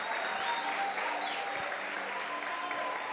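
Church congregation claps during a sermon, a continuous even wash of applause at moderate level from start to finish.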